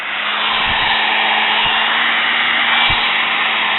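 Sewing machine motor running on the bench after a brush repair, a loud steady whirring hum that holds throughout, with a few faint clicks or bumps under it.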